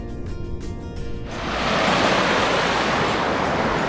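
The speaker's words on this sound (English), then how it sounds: "It is not a big waterfall, but it's really beautiful" A small waterfall at Lovers Point in Mandasuru, Daringbari, Odisha rushes in a steady, loud, broadband roar that rises after a brief quieter stretch and then holds evenly.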